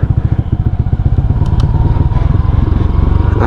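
A Yamaha Sniper 155 motorcycle engine idles and revs steadily up close, its rapid pulsing exhaust beat running continuously at a loud level, with a light mechanical clatter in the background.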